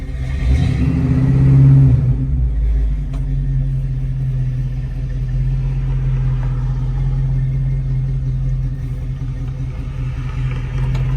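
Engine of a 1974 Ford Bronco Sport with manual transmission, revving briefly as it backs up and shifts into first gear, then settling into a steady, close low drone alone.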